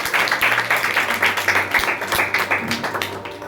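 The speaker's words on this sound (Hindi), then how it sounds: "हालेलुया, और जोरदार तालियां मारो।" A church congregation claps loudly and rhythmically during a pastor's sermon service, with steady, evenly spaced clap bursts over a low musical drone throughout.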